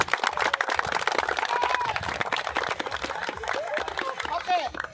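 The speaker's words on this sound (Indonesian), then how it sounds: "Tepuk tangan." Applause at a prize-giving ceremony after a youth under-12 four-corner football match on an outdoor field, a crowd clapping steadily with scattered voices and chatter mixed in.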